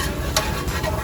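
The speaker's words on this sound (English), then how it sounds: "So this is making what they call a roux, which is the base for a sauce. And what we're doing is cooking that flour." A flour roux is stirred and cooked in a pan, giving a soft, steady sizzle broken by brief scraping strokes of the spoon, close and moderately loud, with no talking.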